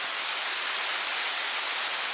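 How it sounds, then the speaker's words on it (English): Steady, dense rain pours down in Tulum, Mexico, a continuous close hiss of drops hitting surfaces with no pauses or voices. "It started raining the second we showed up."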